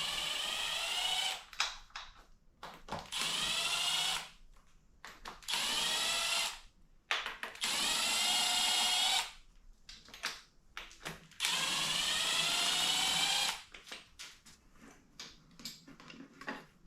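A power tool whirs in several long bursts with short stutters between them while the valve cover is taken off a Honda D16 engine from a turbo Civic. The drill sounds close and loud, with brief pauses between runs.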